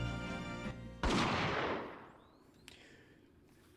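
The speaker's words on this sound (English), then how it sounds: "Goku shot Asogi from the shadows." Single video game gunshot in Ace Attorney, a sharp loud blast about a second in that decays over roughly a second into quiet, preceded by a held musical tone and followed by a faint whoosh and a small click.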